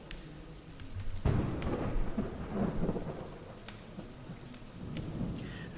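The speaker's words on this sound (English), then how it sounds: "Sir Guy spurred his horse forward amid the pouring rain and flashes of lightning" A thunderstorm with pouring rain and flashes of lightning: a sharp thunderclap breaks in early and rolls into a long rumble over steady, heavy rainfall.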